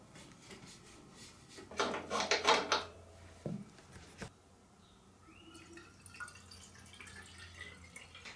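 Water is poured into the cooling system of a Mini Baja Bug project vehicle, a short splashing rush of about a second close by, followed by a clunk and quiet drips and faint handling noises with no talking.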